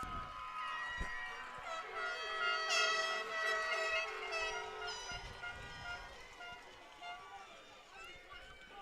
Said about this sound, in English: Has about 7 or 8 air horns, I think, if I'm trying to count right.